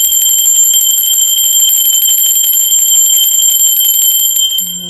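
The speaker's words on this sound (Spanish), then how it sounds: "así que va campana." A bright, sustained bell tone rings continuously and loudly with shimmering high overtones, then begins to fade as a faint low hum enters at the end.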